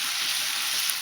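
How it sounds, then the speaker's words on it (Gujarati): Thinly sliced potatoes sizzling in hot oil for a fasting-day upma, a dense, steady crackling hiss that stays loud and close throughout. "બધું તેલમાં આ રીતે સાતળી લઈશું આપણે"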